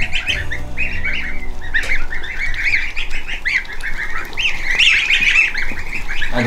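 A flock of ducks and geese on a farm eat starter feed pellets, giving a dense, close run of chirping peeps and squawks that carries on without pause.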